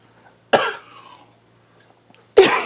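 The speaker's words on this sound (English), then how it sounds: "Smoker's cough." Two harsh, raspy smoker's coughs burst out close to the microphone about two seconds apart, the first trailing into a faint wheezy breath and the second loud and abrupt, with quiet pauses around them.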